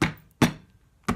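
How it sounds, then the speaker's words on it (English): Three separate knocks, each short and hard, come from an ice cube tray filled with homemade frozen dog treat mix being tapped on a surface, with brief silences between them. The taps are close and fairly quiet. "I'm gonna give them a little tap, sorry for the noise, just to flatten out the tops"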